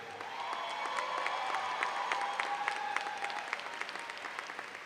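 A large crowd at a high school commencement claps steadily, a broad wash of applause with scattered cheers and whoops mixed in, sustained throughout.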